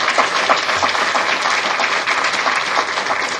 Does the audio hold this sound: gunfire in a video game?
no